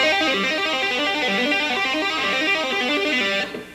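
Shred-style tapped lick on the third string of an electric guitar with a slightly driven tone, rapid repeating note patterns rolling in an even rhythm, close and unaccompanied, fading out at the close.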